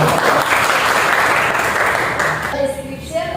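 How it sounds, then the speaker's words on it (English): Loud audience applause in a classroom setting, a dense wash of clapping that holds steady for about two and a half seconds before thinning out as a few scattered claps and a voice come through at the end. "Okay, give applause."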